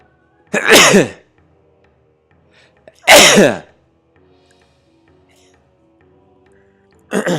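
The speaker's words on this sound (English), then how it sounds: "I'm gonna sneeze real quick." Two loud, sharp sneezes a few seconds apart, with near-silence between and another burst starting at the end, over Metroid Prime gameplay.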